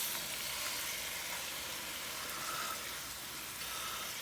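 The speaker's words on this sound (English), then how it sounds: "just turn them up and let them sear a little bit" Stuffed pork chops searing in a hot pan give off a steady, dense sizzle, close and even throughout, with no voices.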